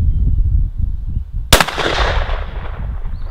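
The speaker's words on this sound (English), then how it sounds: "We'll test out the left-hand barrel, activated by the rear trigger on this gun." A single shotgun blast from the left-hand barrel of a double-barrel gun, fired by the rear trigger: one sharp, loud boom near the middle of the clip that rolls into a fading echo, preceded by low ambient rumble.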